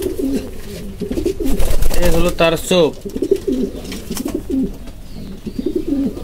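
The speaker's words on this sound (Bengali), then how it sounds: "তো দর্শক এক এক করে মাদি কবুতর গুলা দেখায়" Female pigeons cooing in a loft, low throaty coos repeating close by throughout, with someone speaking briefly over them midway.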